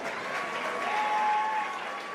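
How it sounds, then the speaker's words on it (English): A fight crowd applauds after a bout, a broad wash of clapping and cheering that swells slightly and holds steady in a large hall. "a big round of applause for both of these outstanding fighters"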